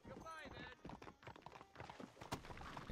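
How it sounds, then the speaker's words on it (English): Horse hooves clip-clop in the Red Dead Redemption game, a quick steady rhythm of fairly faint hoofbeats mixed with a brief whinny-like sound and a voice talking over them. "Come on, horsey."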